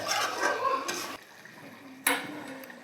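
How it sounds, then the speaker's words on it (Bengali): Egg curry being stirred in a pan with a spoon: soft, wet scraping and liquid movement, a pause, then a sharp clink against the pan followed by more stirring, close up and moderately quiet. "নাড়িয়ে নিচ্ছি।"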